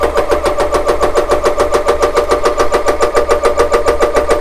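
An Umarex ReadyAir air compressor runs on shore power toward 3000 psi, producing a loud, fast, steady mechanical chugging with an even pulsing rhythm and nothing else in the foreground.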